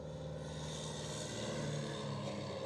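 A Piper Arrow propeller airplane flies overhead with a steady, droning engine and propeller roar that holds fairly even throughout, with no voices.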